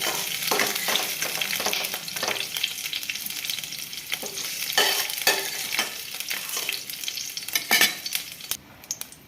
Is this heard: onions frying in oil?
yes